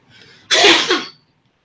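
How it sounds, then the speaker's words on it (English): A single loud, close sneeze, a short sharp burst after a quick inhaled breath, then silence. "Excuse me. Got the sneezes here."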